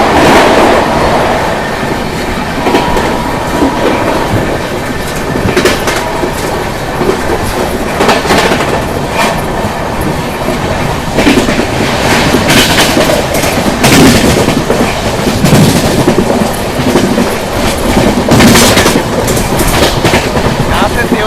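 Marathwada Sampark Kranti Express running on rails: steady loud rumble with rhythmic clickety-clack of the wheels over the joints, continuous throughout and heard from on board.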